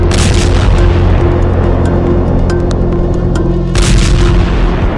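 Artillery and rocket fire in the Nagorno-Karabakh war: a loud, continuous rumbling barrage with heavy booms swelling at the start and again near the end, saturating the whole stretch.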